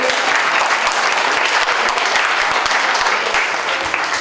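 Strong, dense applause from an academic forum audience greeting an honored guest at the head table, continuous and loud from start to finish with no one speaking.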